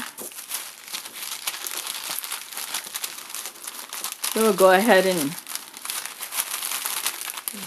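Close crinkling and rustling of a plastic bag runs throughout, with a person speaking briefly in the middle.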